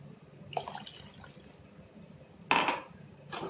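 Two cups of water are poured into a pot of North Indian kadhi, heard as short splashing gushes of liquid against the pot, with a quieter pour followed by a louder burst and another splash at the end.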